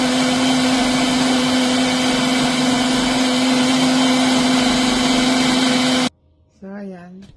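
An electric blender grinds a rice cake mixture of rice, yeast and vanilla with a loud, steady, high-pitched whir for about six seconds, then cuts off abruptly before a voice speaks.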